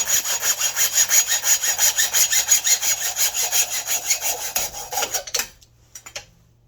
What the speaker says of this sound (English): Can you hacksaw carbon fiber? Yes, you can.